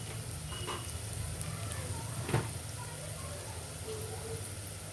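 Spinach with salt, turmeric and chilli powder frying in a pan, a steady soft sizzle running throughout with a brief stir or clink midway, no voices.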